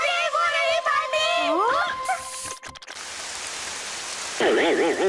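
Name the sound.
rain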